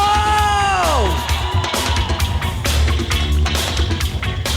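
Rodeo crowd in Volta Redonda, RJ, in 2005, cheering for Montaço in a loud, dense roar with shouts and whoops, opening with a brief falling tone before the crowd noise takes over.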